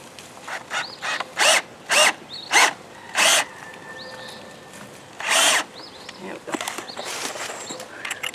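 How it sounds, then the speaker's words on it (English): A power drill whirs into pallet wood in several short bursts, near and loud, with brief pauses between, while people talk quietly in between bursts. "Right here in between these two so I can drill."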